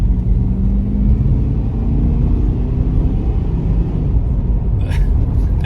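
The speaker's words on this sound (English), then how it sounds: "a couple little full throttle accelerations" A 1985 Buick Riviera under full-throttle acceleration gives a loud, continuous engine roar and low rumble that holds steady throughout, close by and with no talk.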